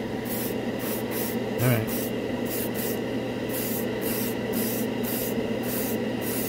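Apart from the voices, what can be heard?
airbrush spraying Alclad metal lacquer paint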